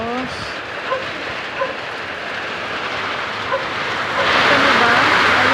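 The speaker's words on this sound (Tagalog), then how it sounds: "Bumuhos ang ulan." Dense, steady hiss of heavy rain pouring down, growing louder and brighter toward the end, with a few faint thuds.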